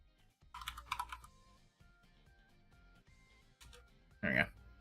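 Computer keyboard typing comes in a quick cluster of clicks, then a sparse key tap or two and a louder clack near the end, faint and close behind light talk.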